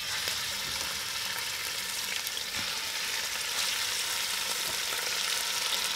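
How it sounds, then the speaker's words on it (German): Goulash meat searing in hot sunflower oil in a pan, a dense, continuous close sizzle and crackle that holds steady throughout with no talking. "wir haben unser wunderbares Gulaschfleisch. Das tun wir jetzt anbraten."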